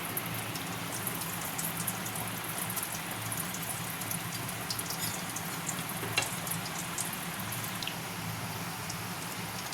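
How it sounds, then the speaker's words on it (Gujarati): Hara bhara kababs fry in oil over medium heat, a quiet, steady sizzle with fine crackling pops running continuously, with no voices over it. "તો હવે આપણે કબાબ તળી લઈશું।"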